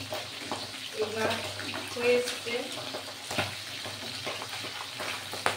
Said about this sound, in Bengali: মাছ ফুটছে, আপনারা শুনতে পাচ্ছেন।